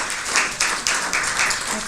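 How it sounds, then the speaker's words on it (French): Audience applause at the close of a talk promoting pastoralism, a short steady patter of clapping with a few louder swells, fairly close and heard on its own. "vous pouvez applaudir"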